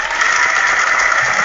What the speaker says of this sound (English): So round of applause for Sergio.